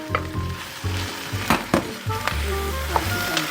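Raw shrimp drop into a hot pan of vegetables that have cooked for five to seven minutes, for a shrimp bisque stock. A steady loud sizzle and fry runs throughout, with a few sharp bursts as the shrimp hit and are stirred.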